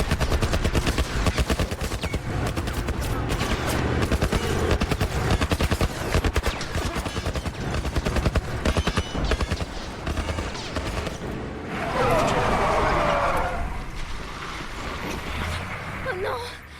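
Sustained gunfire in The Last Of Us video game, rapid overlapping shots and bursts continuing throughout at close range, with a denser loud stretch near the end and players talking over it.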